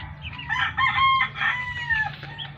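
A rooster crows close by in one long, strained call, with clucking hens and other fowl sounding around it.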